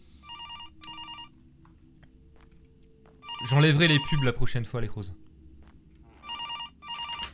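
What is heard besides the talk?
telephone ringing in a haunted cemetery video game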